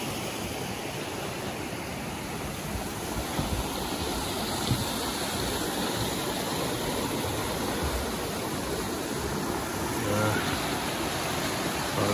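Rose River Falls in Shenandoah National Park rushes steadily in the distance, a constant broad roar of falling water heard from a trail bridge with no talk.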